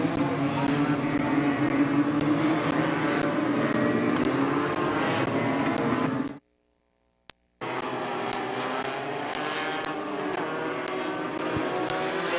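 Legend race cars idling and rumbling around Midvale Speedway as the feature field lines up before the green flag, a loud steady engine drone that cuts out abruptly for about a second before resuming.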